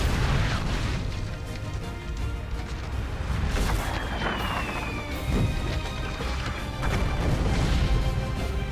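Cannons boom again and again in a video game battle, dense overlapping blasts and crashes filling the soundscape loudly with little pause between shots.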